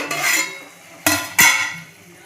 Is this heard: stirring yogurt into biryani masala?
yes